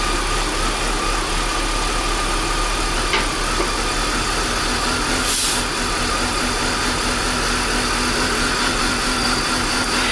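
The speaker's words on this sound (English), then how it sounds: "as you can see, the tune of the engine has changed" A 2001 BMW E39 525 idles with its crankcase ventilation valve removed, holding a steady, even, close-up hum and vibration for ten seconds with no talk.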